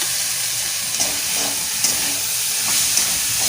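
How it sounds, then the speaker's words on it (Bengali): Fig curry seasoned with turmeric, salt and a little sugar sautés in a pan, giving a steady, close sizzling hiss with faint stirring clicks throughout. "একটু কষিয়ে নিই।"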